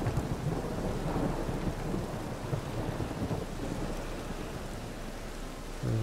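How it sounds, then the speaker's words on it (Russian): Thunderstorm in the video game The Witcher 3: Wild Hunt, with dense steady rain and rolling low thunder rumbles throughout, loud and continuous, no voices. "Гроза, мать ее."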